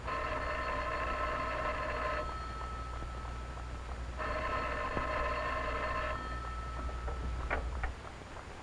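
A telephone rings twice in long electric bursts with a pause between, over a steady low engine-like hum, followed by a couple of faint clicks.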